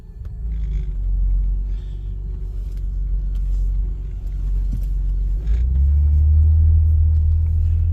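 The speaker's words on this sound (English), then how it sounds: "I'm gonna start driving it right now" An Acura TL Type S pulls away and cruises, a low steady engine and road rumble from inside the cabin that swells slightly near the end as it gains speed.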